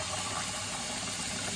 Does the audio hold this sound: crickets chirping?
no